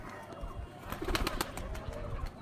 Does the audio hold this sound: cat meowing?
no